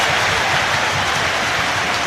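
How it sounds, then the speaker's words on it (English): A football crowd at a Premier League match between Derby County and Manchester United applauds in a steady, dense wash of clapping that fills the stadium continuously from start to finish, with no pauses. "Round of applause."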